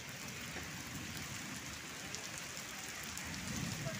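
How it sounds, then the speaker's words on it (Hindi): Heavy rain with small hailstones pours down in Jajpur district, a steady dense roar of drops hitting surfaces throughout, fairly close and continuous with no talking. "कुआ पत्थर पड़ुछि देखंतु केते सारा वर्षा होउछि"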